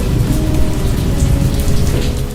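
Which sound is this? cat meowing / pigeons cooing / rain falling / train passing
rain falling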